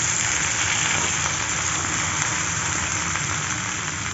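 Onions go into hot oil and set off a dense, even sizzling hiss that stays at a constant level for a few seconds with no pauses or voices.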